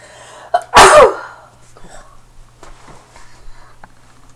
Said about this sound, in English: Feel a sneeze coming on.